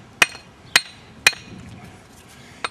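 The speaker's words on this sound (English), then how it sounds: "Then I take the brick hammer." Brick hammer tapping a brick during a brick mailbox build: three sharp, bright metallic strikes about half a second apart, then a lighter fourth tap after a pause, close and clear against a quiet background.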